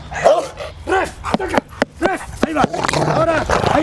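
A dog barks repeatedly on command during a training session for a film shoot, sharp barks and yips coming in an uneven rhythm, close and loud, while a trainer keeps speaking over them.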